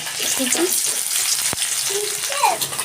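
Garlic cloves and onion frying in hot oil in a wok, a dense continuous sizzle with brief stirring scrapes and a sharp clack partway through.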